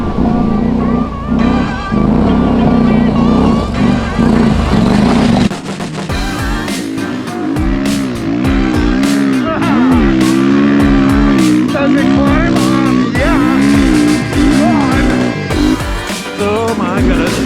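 An adventure motorcycle's engine drones steadily, then rises and falls in pitch as the rider works the throttle, with voices talking over it throughout.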